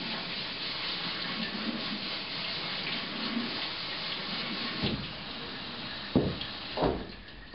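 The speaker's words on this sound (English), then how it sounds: "Put your quinoa in and rinse it." Quinoa rinsed in a metal strainer under a kitchen sink sprayer: a steady hiss of running water holds throughout, with a few brief splashing bursts toward the end.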